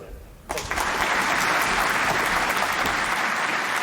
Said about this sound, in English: hey everyone, round of applause